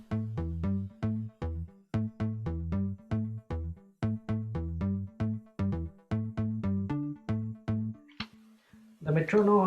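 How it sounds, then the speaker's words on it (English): Muted electric bass and a deep techno bass play together in a remake of a song: a steady rhythm of short, punchy, repeated low notes, with a brief voice and other noise at the very end. "muted bass, they sound like this."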